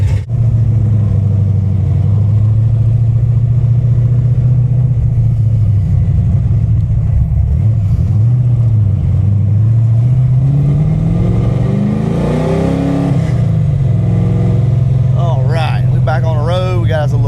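Car engine fitted with an ACES Killshot exhaust, idling deep and loud at operating temperature, rising into a couple of revs mid-way before settling, with someone talking over it near the end.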